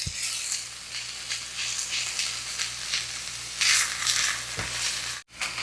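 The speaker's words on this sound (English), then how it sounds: "You want to stir this to coat the rice." Rice sizzling in a hot pan while being stirred to coat it, a steady close hiss of frying with scraping strokes of the spoon and occasional clinks against the pan.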